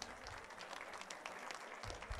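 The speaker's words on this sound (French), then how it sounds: "On les remercie peut-être en les applaudissant." Audience applause at a business forum session in Aix-en-Provence, a steady wash of clapping from a seated crowd that fills the whole moment at moderate loudness, with no voices over it.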